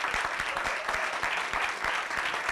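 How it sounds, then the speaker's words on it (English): Event audience applauding after a big round of applause is called for, with dense steady clapping and some cheering filling the hall, loud and continuous throughout. "we need to give them a big round of applause"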